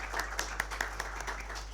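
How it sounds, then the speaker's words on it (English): Sparse audience applause at a lecture-style event, a few scattered claps standing out sharply over a low hum, brief and fairly quiet. "Let us give a big round of applause to madam."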